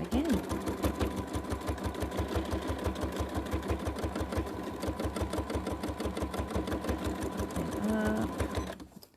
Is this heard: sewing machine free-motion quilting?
yes